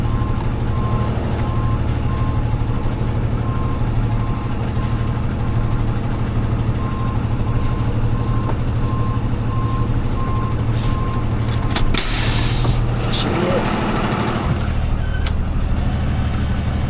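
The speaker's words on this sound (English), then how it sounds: "I'm just gonna tow this one backwards." A tow truck backing up while towing an all-wheel-drive Audi backwards: a steady run of loud reversing beeps over a rumbling diesel idle, stopping near the end with a brief air hiss and clunk.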